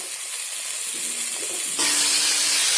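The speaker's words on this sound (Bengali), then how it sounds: "মশলাটা একটু নেড়ে চেড়ে ভেজে তাতে টমেটো কুচি দিয়ে" Ground spice paste frying in a kadai for chicken kosha, with chopped tomato stirred in: a steady hiss that jumps abruptly to a louder, brighter sizzle partway through, with no talking.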